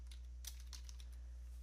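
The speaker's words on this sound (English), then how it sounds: "hit enter on your keyboard" Several quick keystrokes tap on a computer keyboard as commands are typed, sharp light clicks spaced irregularly over a steady low electrical hum.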